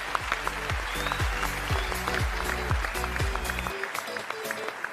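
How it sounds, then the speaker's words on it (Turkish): Applause for singers on stage at a Turkish singing duel show, a steady crowd clapping over a loud, rhythmic musical backing that drops out near the end, leaving the clapping alone. "kocaman alkış istiyorum size"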